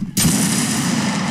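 A line of soldiers fires a musket volley in Mount & Blade, one sharp, loud crack that blooms into a sustained rolling roar of overlapping shots and echo.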